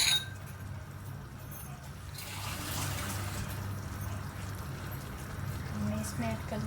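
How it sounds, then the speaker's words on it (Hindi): A glass of water pours into a cooking pot of chana pulao, a soft rushing trickle starting after a light clink and running steadily to the end, fairly quiet. "मैं इसमें ऐड कर दूँगी पानी, 1 गिलास मैं डाल दिया है"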